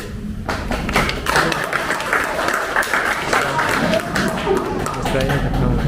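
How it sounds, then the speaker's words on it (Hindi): Audience clapping at a foundation day gathering, dense sustained applause with thumps, shouts and crowd voices mixed in, fairly loud and continuous. "आप लोग बड़ी देर से खामोश बैठे हैं, तालियां बजाइए और मुस्कुराइए।"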